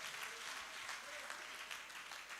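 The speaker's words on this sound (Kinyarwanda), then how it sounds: "Amashyi kwa Yesu menshi cyane." A church congregation claps for Jesus in steady, sustained applause that fills the room, dense and even throughout with no break.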